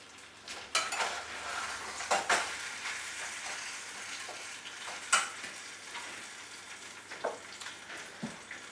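Beef stew, thick enough to need melting back to liquid, is stirred while heating in a pot, giving scattered clinks and scrapes over a soft, steady sizzle, with no talking.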